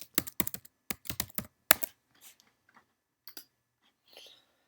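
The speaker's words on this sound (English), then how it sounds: "So I'm typing in my sudo password." A sudo password is typed on a computer keyboard in quick bursts of close, crisp key clicks, followed by a few softer, scattered taps and a pause of near silence.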